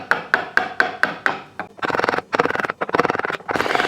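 A wooden propeller blank for a chainless bicycle is carved by hand: a run of evenly spaced sharp knocks, then longer rough, rasping scraping strokes with brief pauses between them, close up.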